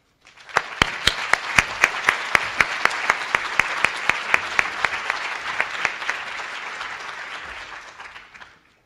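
An audience at a keynote event applauds to welcome the speaker, Charles Beneke: steady, dense clapping from a sizable crowd that rises quickly, holds for several seconds, then fades out.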